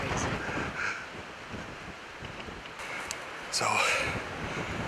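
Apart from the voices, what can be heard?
strong wind blowing outdoors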